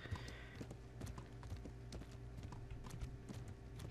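A horse is ridden in the medieval video game Kingdom Come, its hooves clip-clopping in a steady, even gait, moderately loud over a low constant background hum.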